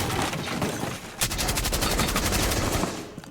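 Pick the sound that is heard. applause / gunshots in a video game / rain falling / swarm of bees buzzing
gunshots in a video game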